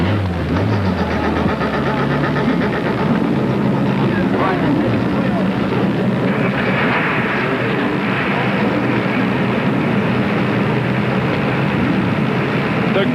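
IMSA GT race cars at the 1992 G.I. Joe's/Camel Grand Prix firing up on the grid, a loud dense engine roar with rumbling idle and rising revs that continues steadily, with talk over it.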